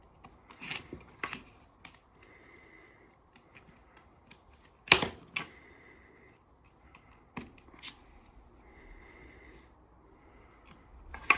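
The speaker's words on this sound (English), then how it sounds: "Even though this is a nice little screwdriver, sometimes it doesn't have enough oomph to get these out real easy, because they bind on the plastic" Small screwdriver working screws out of the plastic housing of an LCD display, giving scattered faint clicks, scrapes and light rasping taps at close range with a few sharper knocks, no talking.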